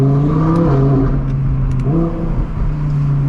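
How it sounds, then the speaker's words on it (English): An Audi R8 Performance engine revving while driving in winter, close and loud, rising in pitch through the gears with a couple of distinct shifts and drops before climbing again. "the fun of it is revving it out, hearing it, shifting, hearing that drama behind you"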